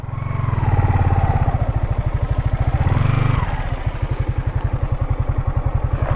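A motorcycle engine idling close by on a steep hillside trail, a loud steady low putter with a faster revving stretch early on, then settling into an even rhythmic chug.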